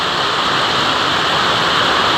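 A loud, unbroken wash of heavy rainfall fills the space, a dense steady hiss close by with no talking.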